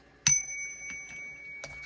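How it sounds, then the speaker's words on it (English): A small bell rings twice with a bright, sustained ding, the second strike softer, in a quiet room. "Let's ring the bell."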